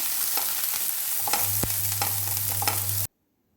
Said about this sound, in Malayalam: വെളുത്തുള്ളി രണ്ട് മൂന്നല്ലി പൊടിയായി അരിഞ്ഞത് അതുപോലെ ചുവന്നുള്ളി ഒരു അഞ്ചാറ് ചുവന്നുള്ളി അരിഞ്ഞത് ചേർത്ത് കൊടുക്കാം അതൊന്ന് വഴറ്റിയെടുക്കാം